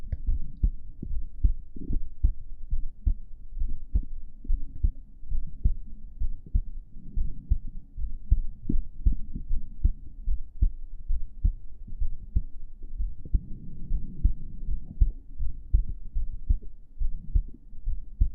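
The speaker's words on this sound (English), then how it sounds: "The heartbeats are great, I'm glad to hear it." Heartbeat sounds on an ASMR live stream: deep, muffled thumps pulsing steadily and close up in the low end, with occasional soft rumbles from breath or mic blowing and no talking.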